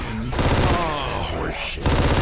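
Rapid automatic gunfire from Left 4 Dead 2, loud and continuous bursts of shots with a brief pause, mixed with shouted voices over the shooting.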